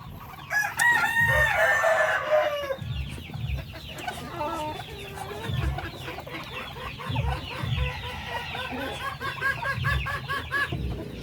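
A chocolate Orpington hen on a backyard farm gives a loud, close run of clucks and squawks, starting with an excited burst and continuing as repeated rhythmic clucking, with other fowl faintly in the background.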